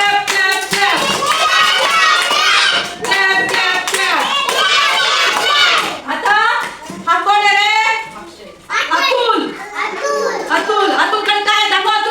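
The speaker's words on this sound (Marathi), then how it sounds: "तुमच्यासाठी टाळ्या" A group of anganwadi children clap in rhythm up close while their voices and chatter carry over the clapping, which keeps going with brief pauses throughout.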